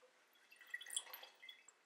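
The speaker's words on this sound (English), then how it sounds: "Sounds like water. Spills like water." Water from an emergency ration pouring into a glass mason jar makes a faint, close trickle with small splashing drips for about two seconds.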